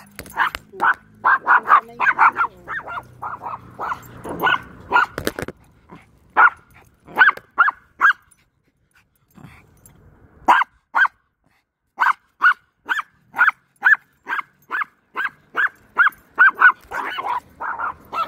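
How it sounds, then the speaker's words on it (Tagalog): A dog barks repeatedly while out on a walk, in quick bursts of sharp barks and yips separated by short pauses, loud and close, with no voices. "Kaya kapag kailangan nagbabark yan ng ganyan, talagang inaano ko yan."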